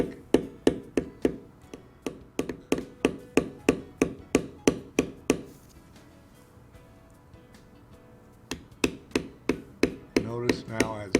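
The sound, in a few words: checker tool stamping leather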